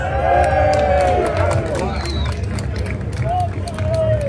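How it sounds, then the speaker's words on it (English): A crowd at a Britain First St George's march rally in Manchester claps and cheers in a steady, dense wash of applause and hubbub, with a few shrill whistles rising over the noise. "Big round of applause."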